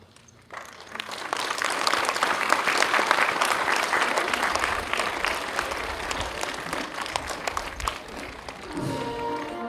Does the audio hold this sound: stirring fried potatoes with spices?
no